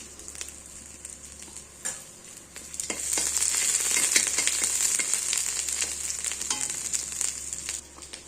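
Crushed ginger dropped into hot oil as a tempering for biulir dal (urad lentils) erupts into loud, close crackling and sizzling after a quieter start, then stays strong and hissing to the end.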